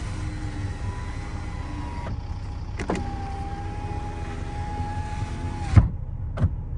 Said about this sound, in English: if you hear that second click as the window moves all the way up